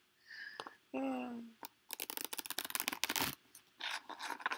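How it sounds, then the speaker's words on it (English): Wizards Tarot cards are shuffled by hand, a rapid burst of close, crisp riffling clicks following a brief voice sound, then more scattered card flicks and slides. "That was a good shuffle."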